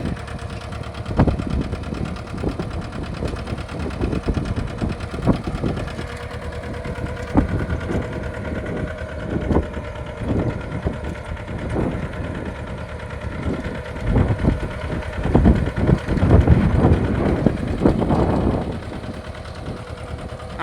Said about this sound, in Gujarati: મિની ટ્રેક્ટરથી આપણે ઢૂંઢવાનું કામ ચાલુ છે